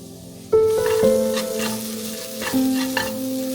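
Spices for samosa filling, including turmeric, cumin powder and red chili, are stirred and fried in a pan, a near sizzle with scraping strokes of a spoon, while music plays along.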